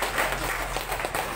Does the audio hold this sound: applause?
yes